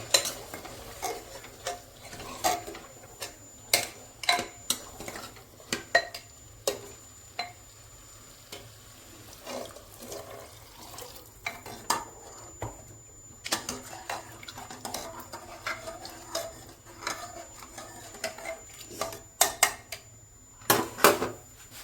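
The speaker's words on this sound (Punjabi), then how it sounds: "ਹੁਣ ਆਪਾਂ ਪਾਵਾਂਗੇ ਆਲੂ ਕੱਟੇ ਹੋਏ ਤੇ ਨਾਲ ਪਾਵਾਂਗੇ ਛੋਲੇ ਲੋ ਇਹਨਾਂ ਕਰਾਂਗੇ ਮਿਕਸ" Cut potatoes and chickpeas being stirred into spiced oil in a pot: repeated scraping clinks of a spoon against metal in an irregular rhythm, close and fairly crisp, over a faint background hum with no speech.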